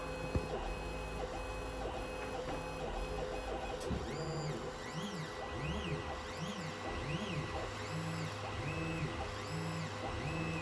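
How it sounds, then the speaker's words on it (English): A Sunlu S8 3D printer runs with the stepper motors whirring in rising and falling tonal sweeps and a steady blower-fan hum underneath, moderately quiet throughout with no talking. "Okay, fan just kicked on. Our big blower fan."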